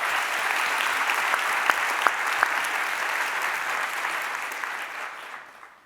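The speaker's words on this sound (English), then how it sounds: "maybe a quick round of applause for everyone at the Y who made tonight possible" Sustained audience applause after an evening conversation event at the Y, many hands clapping steadily and close at full strength, then thinning and fading out toward the end.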